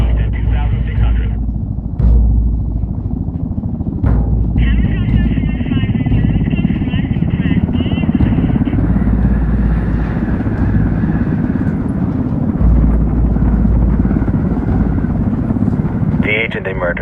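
Helicopter flying in the video game Ghost Recon Wildlands, a loud continuous rotor and engine drone, with radio-style voices talking over it.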